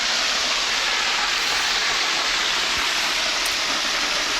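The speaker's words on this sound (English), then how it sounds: "One thing about these secret waterfalls and swim holes, they are literally ice cold." A secret waterfall and swim hole pours with a broad, steady hiss and roar of falling water, close and constant for the whole stretch with no voices.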